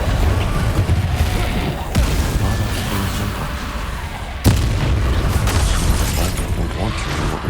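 A fire spell cast in the game Hogwarts Legacy bursts out in loud, roaring blasts over rumbling combat noise, with two sharp booming onsets a few seconds apart.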